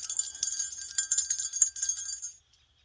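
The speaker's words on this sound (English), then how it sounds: "I like the bell sound." A bell rung repeatedly, bright shimmering high tones in quick uneven strikes for over two seconds, then cut off to silence; no talk.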